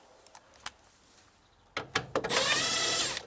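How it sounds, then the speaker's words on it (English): A power driver backs a self-tapping screw out of a car bumper, starting with a few faint taps and clicks, then a sudden louder whir and rattle that continues to the end. "I've actually got a cheeky self-tapper in here that I need to take out"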